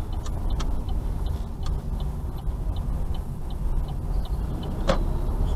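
Car being driven along Vicarage Road near Yardley Old Church, a steady low engine and road-noise drone with a faint ticking, likely an indicator, and no talking.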